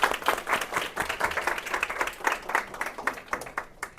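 Audience applause welcomes a speaker at an admissions briefing held by a Korean English academy, with steady, dense clapping from a roomful of people that fades slightly toward the end.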